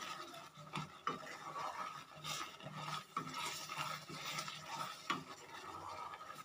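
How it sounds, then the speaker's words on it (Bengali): A spoon stirs milk in a pan while kheer cooks, giving steady scraping and swishing strokes with small clinks against the metal, close and continuous throughout. "এরকম ভাবে কিন্তু সমভাব নাড়তে হবে"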